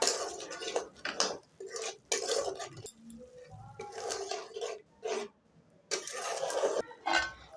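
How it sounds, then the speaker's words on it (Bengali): Aloo potol curry of potato, pointed gourd and spices being stirred in a pan with a little water, bursts of metal utensil scraping and clinking against the pot coming in repeated close, uneven strokes with brief pauses between. "এখন আমি সব উপকরণগুলো খুব ভালোভাবে কষিয়ে নেব"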